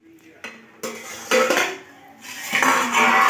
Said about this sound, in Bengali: আবারও আমি 5 মিনিটের জন্য ঢাকা চাপা দিয়ে দিচ্ছি।